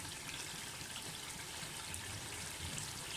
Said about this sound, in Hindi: मैं बिल्कुल आधा कप से पानी डालूँगी बस।